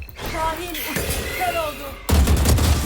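Video game gunfire from Valorant sounds as bursts of shots and impacts. Other game effects sit underneath, and a heavy, louder barrage breaks out near the end.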